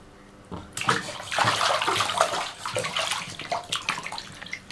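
A baby splashes in bath water, with irregular sloshing and splashes close by, fairly loud, and no talking over them.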